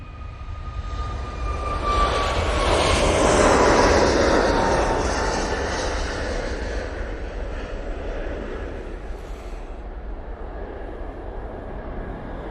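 A TUI airliner takes off from Manchester Airport, its engine roar swelling to a loud peak and then slowly fading as the jet climbs away, with no voices over it.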